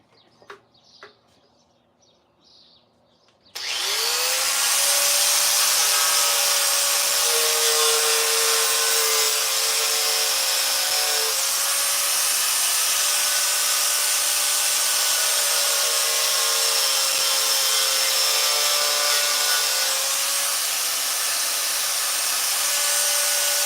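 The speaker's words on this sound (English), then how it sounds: "I'm gonna cut this with the grinder" Angle grinder spinning up and cutting, a loud, sustained high-pitched whine that starts abruptly after a few seconds of quiet and holds steady for the rest of the clip.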